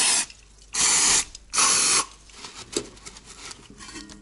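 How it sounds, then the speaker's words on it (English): Brake cleaner sprayed onto a car's rear brake caliper in short hissing aerosol bursts, two strong blasts and a shorter lead-in, followed by quieter clicks and handling noises. "You can use some brake cleaner to clean the caliper"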